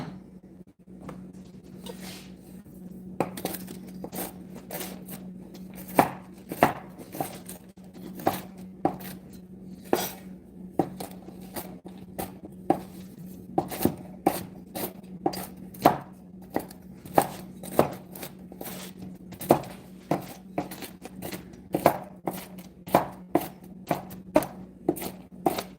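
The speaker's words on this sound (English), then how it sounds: "we're going to chop these up" A knife chops chilies on a cutting board in a long run of quick, close, crisp taps, sometimes rapid and sometimes spaced, over a faint steady hum.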